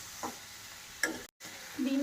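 A prawn mixture gets stirred in a frying pan, with a few brief scraping strokes and a light sizzle. The sounds come in short bursts with a quiet pause between them.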